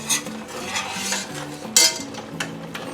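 Pectin being stirred into jalapeño pepper jelly in a pot: a utensil scrapes and clinks against the metal pot in quick irregular strokes, with brief sharp knocks and soft bubbling.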